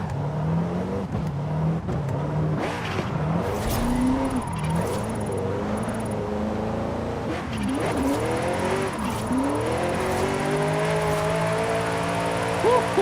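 Simulated car engine from Forza Horizon 5 revving and shifting through a drift, with rising and falling pitch sweeps, tire skid noise and some voice talking over it, played with a steering wheel.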